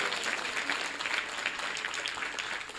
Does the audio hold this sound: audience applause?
yes